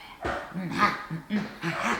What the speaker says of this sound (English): Even Toffee's barking